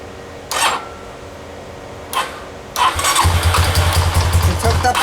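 A 2007 Honda Rancher ATV being cold started after sitting a year: two short cranking bursts, then the engine catches and runs with a steady, rough, close-up idle.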